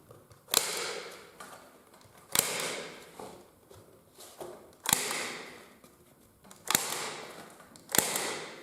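A staple gun drives staples through canvas into gallery-deep wooden stretcher bars, five sharp, loud snaps spaced one to two seconds apart over quiet room tone.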